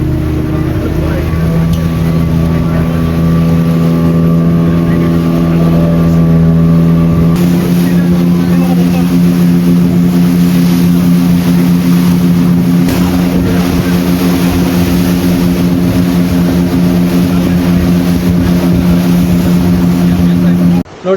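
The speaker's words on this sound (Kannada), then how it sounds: "ಈಗ ನೋಡಿ ಆ ಬೋಟ್ ಹೋಯ್ತು, ಇನ್ನೊಂದ್ ಬೋಟ್ ಬಂತು." Motorboat ferry engine at the St. Mary's Island jetty churns loudly and close, a steady droning hum that shifts pitch partway through as the boat maneuvers, with people talking nearby over it.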